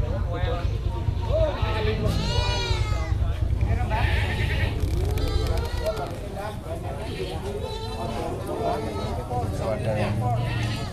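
Goats bleat repeatedly at a busy livestock market, their calls near and loud over constant crowd chatter and people talking.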